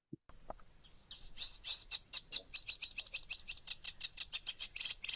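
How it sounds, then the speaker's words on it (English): A reed warbler sings, a recorded song played back in a lecture hall: a rapid, chattering run of repeated scratchy notes, starting after a brief click and continuing steadily and fairly close throughout. "So this is the reed warbler"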